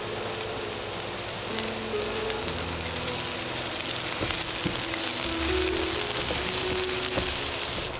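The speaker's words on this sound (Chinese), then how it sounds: "再倒入葱花炒几下" Chopped scallions and garlic stir-fried in hot oil, a continuous loud sizzle with scraping and clicking from the spatula against the wok, no voices.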